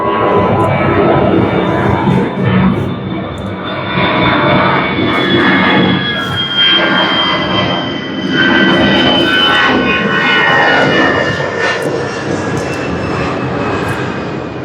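A fixed-wing airplane passes overhead near an airport in Corfu, Greece, its jet engine a loud, steady roar that swells and fades slightly over a long stretch, with no one talking.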